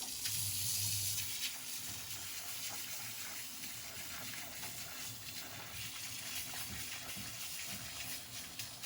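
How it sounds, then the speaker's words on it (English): Tap water runs over freshly cooked Shanghai-style scallion noodles, with a brief stronger gush at first and then a steady, moderately close hissing splash. "Okay, we're gonna lift our noodles out."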